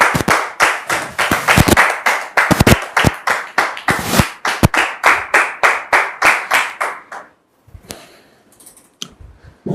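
Studio audience applause welcomes a pastor guest onto a French-language talk show: a quick run of loud, distinct, rhythmic hand claps, close and crisp, thinning out and stopping after about seven seconds, followed by faint sparse sounds.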